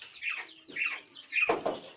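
Domestic quail kept at home give short chirping calls, several quick notes in a row, close and fairly quiet with no voices over them.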